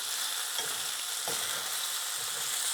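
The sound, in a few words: pork frying in a pan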